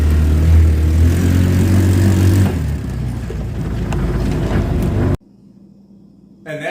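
A 150cc GY6 buggy engine with stock exhaust idles and revs with a low, steady drone. It drops off abruptly near the end, then quiet sound picks up again.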